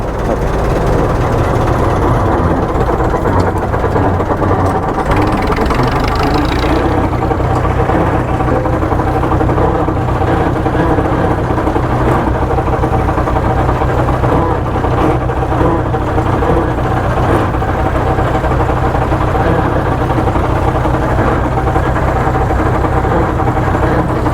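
A road roller's heavy engine idles steadily and loudly throughout, a dense low rumble with a constant mechanical hum and gear whine from its recently rebuilt gears, no voices over it.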